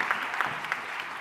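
A conference audience applauds at a panel event, a fairly soft, even patter of clapping from a medium-sized crowd that fills the short moment with no voices over it.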